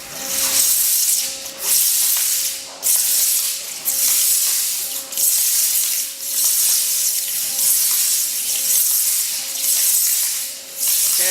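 Harsh, roaring high-pressure waterjet spraying water with garnet abrasive, a gritty hiss pulsing in repeated bursts over a faint steady hum, loud and close.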